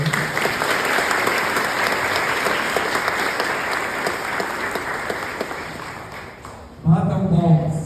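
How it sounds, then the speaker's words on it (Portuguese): A church congregation applauds during a service, dense sustained clapping filling the room for several seconds before fading, followed by a voice speaking over a microphone. "Uma salva de palmas para essa gente"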